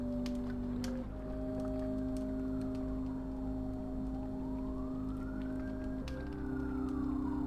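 An emergency siren wails with slow rising and falling sweeps at a moderate distance, layered over a steady low engine-like hum and drone.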